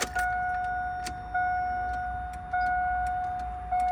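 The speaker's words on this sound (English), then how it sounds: "And you can actually hear the relay working at normal speed." Inside a Chevy Tahoe, a turn signal relay clicks at an even, normal pace, about one tick per second, each click followed by a steady tone.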